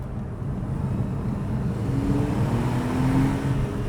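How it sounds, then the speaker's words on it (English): A Porsche 911 997.2 Carrera 4S engine pulling hard after a downshift near a tunnel, a steady loud low roar with a rising tone as it accelerates. "I wanted to shift it down and put my foot through the accelerator pedal and just get some grunt out of it"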